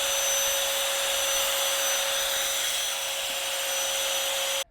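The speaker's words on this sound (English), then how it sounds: "It is not hard to see the screen in blue, what it looks like, and pick a speed to blow." A cordless brushless Tawugame leaf blower runs with a steady, loud, close airflow roar and a constant motor whine, then cuts off abruptly at the end, with no talking.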